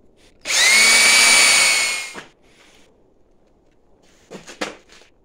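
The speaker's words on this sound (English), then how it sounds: "So I'm drilling it off to the side." A power drill bores into a magnesium water-filter anode with a steel core, giving one loud, steady whine for under two seconds that winds down, followed by a few faint clicks and knocks.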